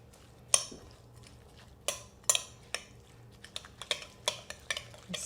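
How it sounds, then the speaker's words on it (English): Spoon stirring seasoning through a grilled corn mixture with chilis in a bowl, giving sharp clicks and scrapes against the dish that come irregularly and speed up toward the end, close and fairly quiet. "And then we'll stir this up."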